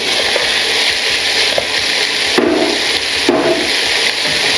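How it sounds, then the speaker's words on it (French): Onions and peppers sautéing in a pan for caramel pork, a steady broadband hiss with wooden scraping and stirring knocks, close and fairly loud, with no talk. "Et on continue de faire revenir tout ça."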